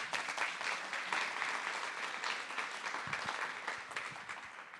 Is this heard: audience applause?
yes